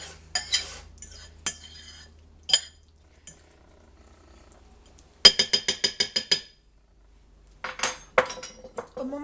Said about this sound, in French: je mélange bien pour que la pâte à curry se mette un peu partout